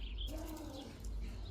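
Birds cooing near a palm tree outdoors, soft low pigeon-like coos with a faint chirp, quiet and close, with no talking.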